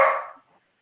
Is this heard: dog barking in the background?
yes